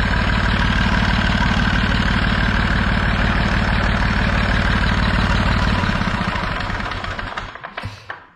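An old, high-hour tractor engine idles after a cold start with a loud, steady low throb and rhythmic chugging, then stops near the end and sputters out into clunks.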